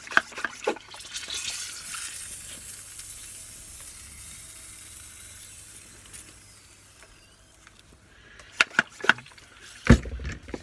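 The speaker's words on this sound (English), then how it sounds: "Plenty of water." Water poured onto a freshly potted dahlia cutting in a pot of compost and perlite, a soft continuous splashing and trickling that fades, followed by a few sharp handling knocks near the end.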